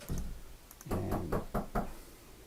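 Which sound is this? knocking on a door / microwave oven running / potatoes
knocking on a door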